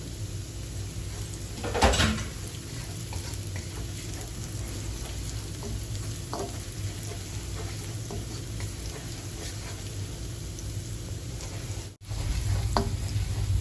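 Chilli chicken sizzles steadily in a pan while a utensil stirs and scrapes through it, with a sharper clatter early on and a brief break before the frying resumes.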